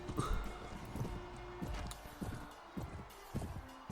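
Horse hooves clop in a quick, uneven galloping rhythm, moderately close, with a faint tonal hum in the background, in the video game Mount & Blade: Warband (Prophesy of Pendor mod).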